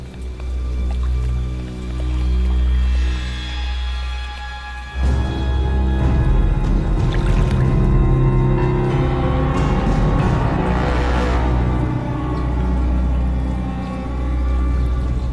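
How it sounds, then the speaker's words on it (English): Hands slapping and swishing in water to call a crocodile, a steady wet churning that turns busier and more splashy halfway through, close by, with no talking. "I use the vibration I make with my hands in the water to communicate with him"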